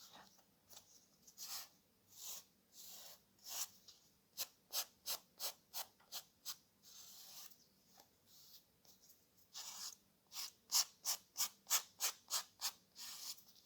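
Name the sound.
filing the edges of a cardboard notebook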